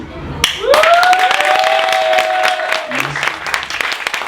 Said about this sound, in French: Si nous aimons vraiment, ils vont applaudir.